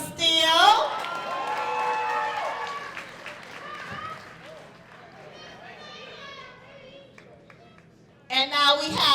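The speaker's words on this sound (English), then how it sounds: "Let's keep cheering them on" A graduation audience at an 8th grade ceremony cheers and applauds, loud at the start, settling into a steady crowd murmur, then bursting into shrill cheering again at the end.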